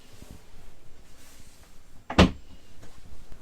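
A cupboard door in a camper van bathroom opens or closes with one sharp knock and clack, close and brief, over quiet low room noise.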